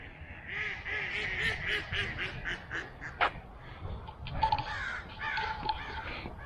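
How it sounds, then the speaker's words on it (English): Ducks quack repeatedly alongside harsh crow caws outdoors, a busy overlapping chorus of birds at moderate distance. "the ducks have something to say about that as well"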